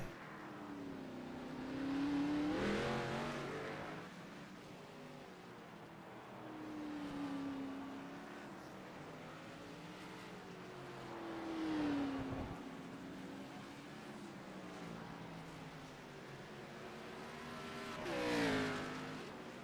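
Race cars on the 1.95-mile, 11-turn Long Beach street circuit pass by one after another, engines whining up through the gears and fading, several distinct passes separated by quieter gaps.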